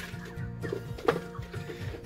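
A brooding hen clucks in low, repeated throaty notes close by, a steady run of short clucks with one sharper call in the middle.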